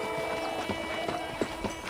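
Horse hooves clip-clop in a short, steady rhythm in the Red Dead Redemption western game, fairly close and clear against a constant background hum.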